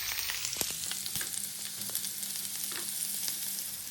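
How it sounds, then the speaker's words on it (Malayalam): Chopped onions frying in oil in a pan on the stove, a close, continuous crackling sizzle with occasional sharper pops and faint scrapes of stirring. "ഒരു പാൻ അടുപ്പിൽ വെച്ചിട്ട് കുറച്ച് എണ്ണ വെച്ച് കൊടുക്കാം. ഇതായിട്ട് വന്നെങ്കിൽ ഇതിലേക്ക് ഉള്ളി ഇട്ട് കൊടുക്കാം."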